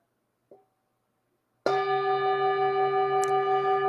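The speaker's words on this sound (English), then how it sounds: "I'm going to invite the bell." A meditation bell is struck once and rings out loud and clear, its steady tone sustaining with a slow shimmer after a faint short tap just before.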